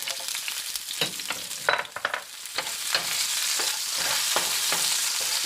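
Two-inch pieces of onion whites drop into a hot pan for Mongolian beef with a burst of clattering, crackling sizzle. The frying then settles into a steady, close hiss.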